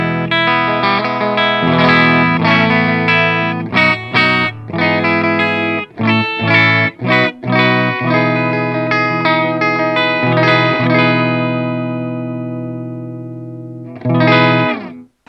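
Electric guitar through the brighter red channel of a Hellwin Stage 100W tube amp, overdriven, playing loud sustained chords and riffs with brief stops, then ringing out before a short final burst.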